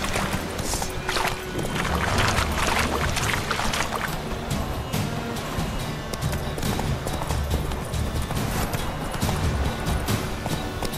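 Roach, Geralt's horse in The Witcher 3, gallops in a steady rapid clip-clop of hooves that carries on without pause, fairly close, over a busy background of ambient game sound.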